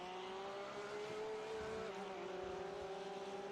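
Porsche 911 GT3 R race cars run close together in a racing video game, their engines a steady, faint droning whine with a sustained tone that shifts slightly in pitch, heard without speech.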